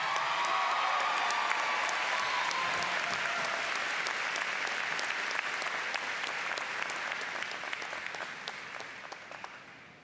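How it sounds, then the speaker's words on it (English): Dense, steady audience applause at the UofSC Aiken Spring 2022 commencement ceremony as an award recipient walks up, filling the hall for ten seconds before tapering slightly toward the end. "Let's give him a round of applause as he comes up."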